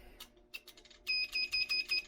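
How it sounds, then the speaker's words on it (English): A Dillon XL750 progressive reloading press's primer alarm system sounds a run of about five sharp, evenly spaced electronic beeps, close and loud, after a few soft mechanical clicks at the start. "alarm system"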